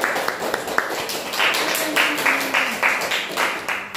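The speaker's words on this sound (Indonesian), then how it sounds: "kita berikan tepuk tangan untuk kelompok 2" Classroom applause for a student group's presentation, a brisk burst of uneven hand clapping from a small group, close and lively, with scattered voices mixed in.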